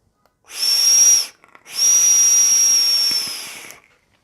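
Two sustained high whistling hisses from a UWELL Fancier vape drawn on in whistle mode as an RDA, a short one then a longer one, with a brief pause between.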